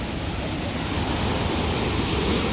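Davis Falls in Pokhara, fed by Phewa Lake water, roars as a steady, dense rush of falling water, loud and unbroken with no other sounds rising above it.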